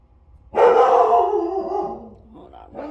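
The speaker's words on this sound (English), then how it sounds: "My dog's gonna freak out." A dog breaks into a loud, drawn-out howling bark that fades over about a second and a half, followed by quieter vocal sounds, heard indoors when someone arrives home.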